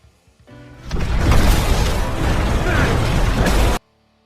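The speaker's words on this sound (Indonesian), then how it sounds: "Dia menyerang Max yang membuat granat di tangan Max pun terjatuh dan meledak" A grenade exploding in the sci-fi film Elysium: a loud, sustained roaring blast with crashing debris that swells quickly, holds for about three seconds, then cuts off abruptly.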